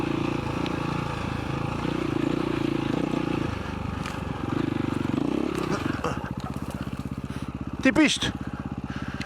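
KTM 525 EXC enduro motorcycle riding off-road in the Algarve: a close, steady engine drone that shifts pitch as the throttle changes, ending in a rough, pulsing idle with a short burst, while someone talks over it.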